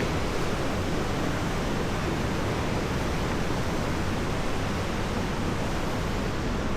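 Chips Creek rushes steadily along a trail, giving a dense, unbroken wash of flowing water that stays loud and even throughout, with no voices.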